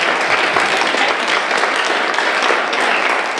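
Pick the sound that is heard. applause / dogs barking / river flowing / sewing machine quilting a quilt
applause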